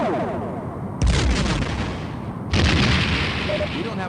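Starship weapons firing in A Final Unity during a space battle, two heavy sustained barrages starting abruptly in sequence over a low rumbling background, loud and close.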